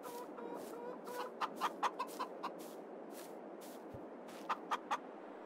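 Chickens cluck in the Farming Simulator 22 video game, with scattered short clucks in quick bursts over a faint steady background hum, fairly close and clear.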